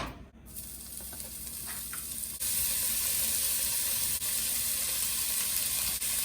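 Meat for bolognese browns in a hot pan, starting as a quieter crackle and jumping to a loud, steady, close sizzle that holds to the end, no voices.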